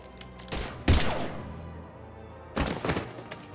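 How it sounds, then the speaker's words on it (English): Gunfire from Mass Effect Legendary Edition comes as a few heavy thumping shots, a burst near the start and another near the end with a quieter gap between, fairly close and without talking. "Now open fire!"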